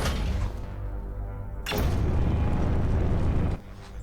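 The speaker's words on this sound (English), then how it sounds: "the sensors begin detecting weapon fire" Weapon fire in the video game Skyshine's Bedlam: low rumbling booms, then a sharp loud blast that opens into a sustained heavy roar before cutting off.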